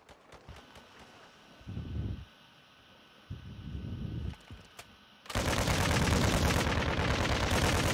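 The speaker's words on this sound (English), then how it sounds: "He's shooting at somebody." Gunfire in Warzone 2, a battle royale shooter: bursts of shots come in two short volleys, then a loud sustained barrage of rapid fire takes over the final seconds, fairly close and dominant.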